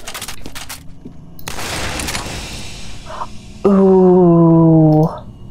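MP50 repeating cannon in the shooter game F.E.A.R. fires in bursts of loud crackling shots, followed by a sustained whining electronic hum for over a second.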